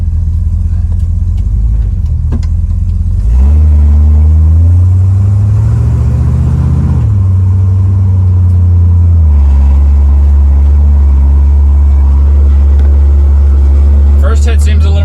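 An engine with a Motorcraft 4300D carburetor revs up off idle in two strong, loud pulls, each rising then settling back to a deep steady idle rumble, with faint clicks toward the end.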